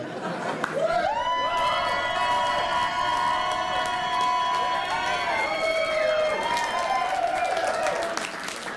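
Audience at a cabaret show in Cardiff applauding and cheering, a dense sustained roar of clapping with whoops and voices layered over it, close and loud throughout.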